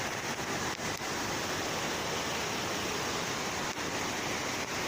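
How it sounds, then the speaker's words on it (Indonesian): Curug Cinde waterfall pouring with a large volume of water in heavy rain, a constant, dense roar of falling water that fills everything evenly without a break, with a few faint knocks. "Akhirnya aku bisa mengambil gambar ini air terjun dengan volume air yang lumayan besar."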